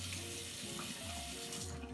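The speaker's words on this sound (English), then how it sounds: "So what I do is I take my toothbrush and I wet it up. Y'all hear that water?" A bathroom tap runs steadily into a sink while a toothbrush is wetted under it, a continuous close rush of water with a low hum beneath.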